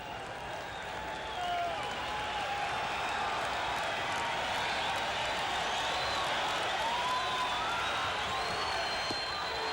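A 1986 baseball crowd at Fenway Park cheering and roaring in a broad, sustained wash of noise that swells after the opening seconds and stays loud, with a few whistles cutting through.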